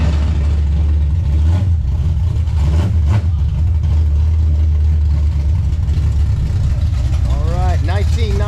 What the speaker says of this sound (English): Turbo. 968 900, smoking the tires on the dyno.